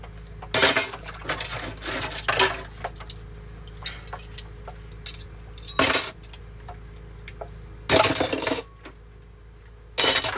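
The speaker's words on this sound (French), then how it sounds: "je vais juste faire mouiller ma vaisselle" Dishes are rinsed in a sink, with loud bursts of running water in short spells between scattered clinks and taps of crockery, heard close with no talking.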